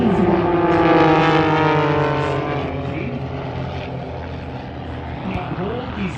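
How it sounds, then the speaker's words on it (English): Four propeller planes fly in formation at the Avalon Airshow, a loud droning engine roar with sweeping pitch shifts as they pass overhead and fade slightly. "these 4 planes will form together for the first time in an echelon"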